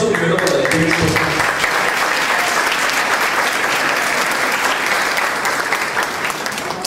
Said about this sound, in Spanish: Un aplauso primero para la gente.